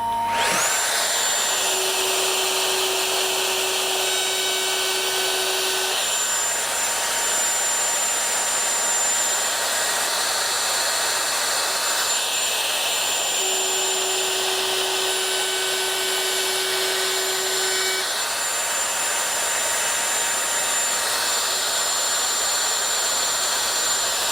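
A Festool MFK 700 router makes repeated cutting passes, a loud high whine that swells and eases in two long bursts over a steady motor hum, up close and with no talking.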